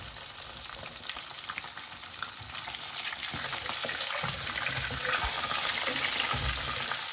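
Pieces of fish, including the head section, fry in hot oil with a continuous bright sizzle and crackle that stays fairly loud throughout, with occasional soft knocks and no voices.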